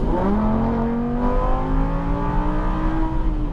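A Lamborghini accelerates hard on a race track, its engine note climbing steadily and loudly up through the revs, close and alone without speech.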